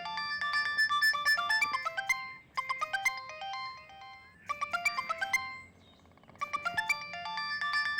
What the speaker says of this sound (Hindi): किसका फोन आ गया इस वक्त?